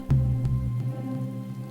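Steady rain patters against a surface beneath a low, droning hum, with no voices.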